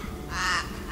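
Single hoarse, low caw from a forest raven, brief and moderately close over faint background noise.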